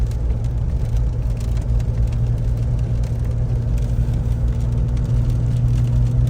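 A 2014 Jeep Wrangler JKUR with a newly installed transmission, its engine at operating temperature, drones steadily with a deep low hum and constant whir heard from inside the vehicle, no talk.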